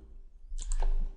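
A short burst of computer keyboard key presses, a Ctrl shortcut being struck, two or three crisp clicks close up over a low background hum, with no talking.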